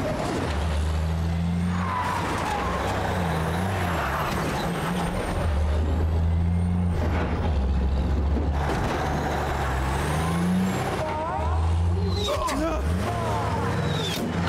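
Vehicle in Dying Light 2: a low rumbling engine runs steadily, with hissing brake bursts and clunks, while a person talks over it.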